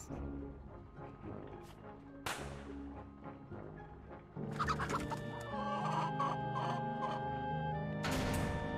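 A chicken clucks in a Telltale Wallace and Gromit adventure game, with repeated clucks and a squawk over game music and effects, growing louder toward the end.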